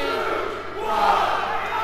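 DMU supporters at a men's futsal match roaring together as the final whistle nears, a brief, loud burst of crowd cheering in an indoor hall.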